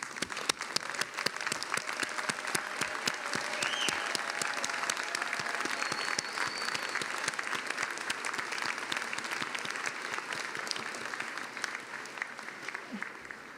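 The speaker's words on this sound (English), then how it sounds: "Let's give them all a big round of applause." Sustained applause from a large crowd at a UCLA doctoral hooding ceremony, dense steady clapping filling the whole stretch without pause.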